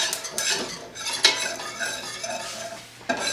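A metal whisk stirs in a pot of macaroni and cheese on the stove, scraping and clinking against the metal in quick irregular strokes with a faint sizzle beneath, close and fairly loud with no talking.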